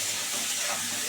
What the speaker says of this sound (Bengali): এটা খুব ভালো করে কাঁচকলা আলুটা 2 মিনিট ধরে ভাজবো